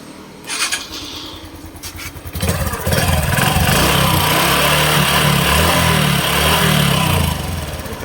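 A 2024 Honda Wave 110i motorcycle with an oil leak starts up, a few sharp cranking bursts giving way to a steady, loud close-range idle that holds for several seconds.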